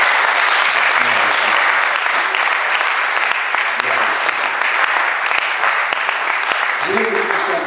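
A church congregation applauding and cheering: dense, continuous clapping from a large crowd fills the space throughout, with a few voices calling out over it.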